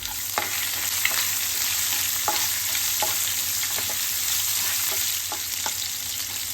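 Cumin, fennel seeds and green chillies sizzle steadily in hot oil for a poha mixture, a soft continuous frying hiss broken by occasional light stirring clicks.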